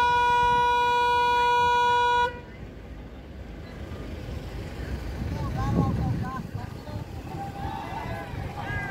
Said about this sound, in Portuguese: Eles ficam buzinando.